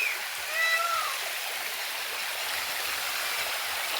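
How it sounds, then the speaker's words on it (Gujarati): A steady broadband rush of falling water from a waterfall, with a few faint bird calls, including a peacock, briefly above it. "અહીંયા ભાઈ ધોધ પડે છે."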